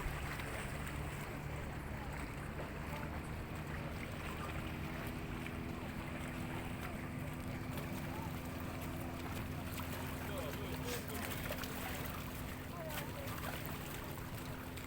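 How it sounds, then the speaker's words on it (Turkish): A motorboat passes near a swaying pier at a beach in Bodrum Türkbükü, giving a steady low engine hum under wind and lapping water, with voices talking faintly throughout. "İskele sallanıyor çünkü motor şey geçti yaklaştı."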